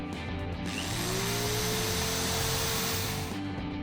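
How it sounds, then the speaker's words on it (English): Power screwdriver whirring steadily while driving screws into a homemade shelf, a continuous loud motor drone that winds down near the end. "A screwdriver always helps."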